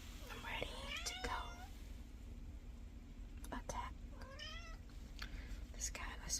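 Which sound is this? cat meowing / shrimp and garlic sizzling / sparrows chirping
cat meowing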